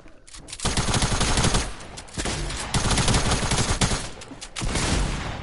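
Rapid bursts of gunfire from a Fortnite match rattle loud and close, in several dense volleys separated by brief lulls, with no talk.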